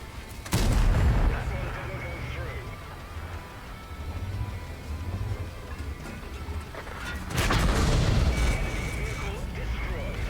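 Video game gunfire, with two loud booming bursts of shots separated by a lower rumbling stretch, close and heavy, while a player talks over it.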